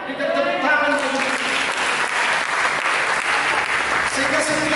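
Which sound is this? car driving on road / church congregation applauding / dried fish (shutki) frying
church congregation applauding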